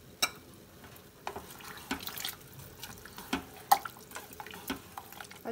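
Water pours and splashes faintly into a cooking pot of jackfruit curry, with scattered drips and small wet knocks in a quiet kitchen and no voices.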